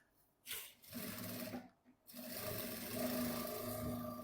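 A Jack A4C industrial sewing machine stitching through fabric, from thin to thick material, its steady mechanical whir starting in short bursts and then running continuously, fairly quiet with no talk.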